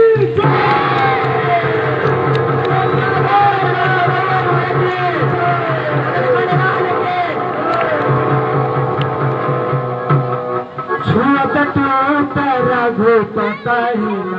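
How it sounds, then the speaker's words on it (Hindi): A large Ramlila audience chants a loud, sustained devotional cry to Lord Ram in unison over a steady humming drone, then breaks into scattered, uneven shouts near the end. "आप लोग दोनों हाथ ऊपर करेंगे और तालियों के साथ सियावर"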